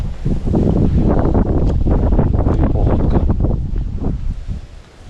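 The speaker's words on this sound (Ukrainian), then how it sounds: "Вітер піднявся капець." Strong storm wind at a fishing spot roars and buffets the microphone continuously, loud and rumbling, with gusts rising and easing before fading toward the end.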